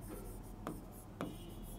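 Chalk or marker writing a geometry proof on a classroom board, faint soft scratching strokes with two sharper taps, quiet and close, no talk over it.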